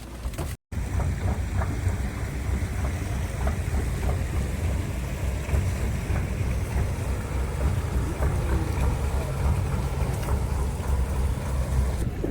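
A squid-fishing boat off Kuala Besut, Terengganu, idles at the jetty with a steady low engine rumble, and wind buffets the microphone throughout.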